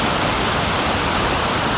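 A waterfall pours steadily in a rocky landscape, a continuous broadband rushing hiss with no breaks, moderately loud and close.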